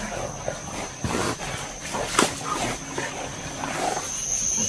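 Hunting dogs bark and yelp while chasing wild boar, several scattered barks at a distance over rustling outdoor noise.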